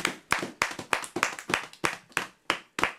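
A church congregation claps in steady rhythm to acclaim God, with about ten sharp, loud handclaps evenly spaced over three seconds and no voices.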